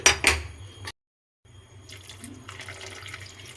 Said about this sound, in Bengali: এর মধ্যে আমি আরেকটু জল দিয়ে দিচ্ছি